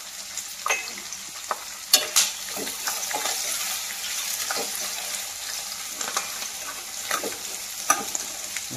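Onion and green chili pieces sizzle and fry in hot oil with dried shrimp for a ridge gourd curry, with a steady crackle, scattered stirring scrapes and a few sharp utensil clinks against the pan, close up and with no talking.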